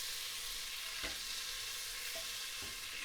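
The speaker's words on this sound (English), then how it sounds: "Then you want to get your onions in, and I'm putting my mushrooms in with it." Sliced onions and mushrooms sizzle in a hot pan, a steady soft crackle with a few stirring scrapes and knocks, close by and without talk.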